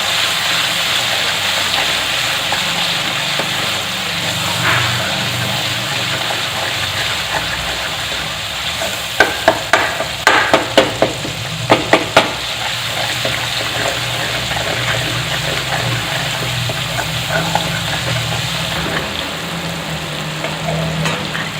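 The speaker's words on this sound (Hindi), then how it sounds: "अब इसमें हम डालेंगे ये जो मसाले हमने सारे इकट्ठे किए थे, इनको अच्छे से भूनना है।" Spice masala frying with tomatoes in a pot for Sindhi-style chole, a steady loud sizzle throughout with a few sharp clinks of a spoon against the pan midway.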